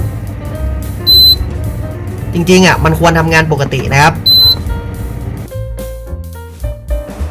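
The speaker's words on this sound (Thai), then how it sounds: "ผมจะกดปุ่มคูนะครับ นะครับมันแจ้งเตือนนะครับ" A Hatari evaporative cooler fan, whose water pump fails to run when the COOL button is pressed, gives two short, high warning beeps a few seconds apart while someone talks over them throughout.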